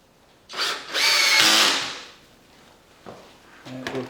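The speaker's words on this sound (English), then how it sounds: "we're ready to go ahead and start putting this frame together" Power drill driving pocket-hole screws to join a wooden window trim frame, with two loud bursts of whirring followed by lighter taps and short clatter as the work is handled nearby.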